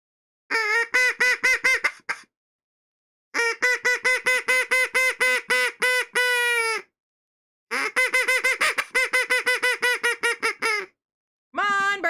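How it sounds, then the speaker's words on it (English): A handheld duck call blown in rapid bursts of short, nasal honking quacks, three long runs with brief pauses between, loud and close with no talking. "I got the duck call, but I wasn't doing the proper, like, sounds."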